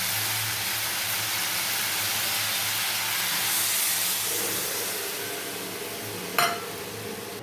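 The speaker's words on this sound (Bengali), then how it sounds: "এবার আমি এর মধ্যে জল দিয়ে দেবো।" Water poured into a hot pan of sautéed vegetables, a loud, close, continuous steaming hiss and sizzle that slowly eases, with a brief clink near the end and no talking.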